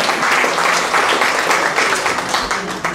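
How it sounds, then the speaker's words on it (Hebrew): Applause at an awards speech for a women's council toast event in Ra'anana, a dense, steady wash of many hands clapping throughout, fairly loud and continuous with no talk over it. "ומגיע לה מחיאות כפיים ולשניין."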